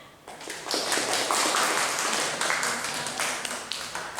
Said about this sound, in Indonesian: Mari semuanya tepuk tangan